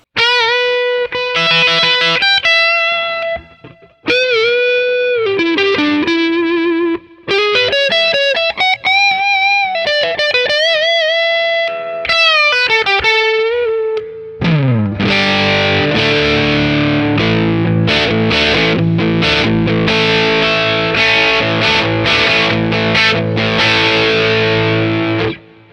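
Electric guitar through a Mooer Preamp Live on patch 3, the Brown sound, a distorted classic rock tone: sustained bent lead notes with pauses, then dense strummed power chords, loud and close with no talking.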